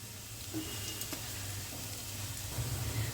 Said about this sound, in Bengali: বড়াগুলো দেখুন পুরো ভাজা হয়ে গেল